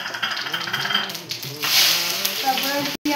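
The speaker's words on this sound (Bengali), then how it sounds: "তেল গরম হয়ে গেছে, এখন আমি ফোড়ন দিয়ে দেবো।" Whole spices hit hot oil for tempering, producing a crackling sizzle that swells midway, with utensil clinks and a tonal background layer.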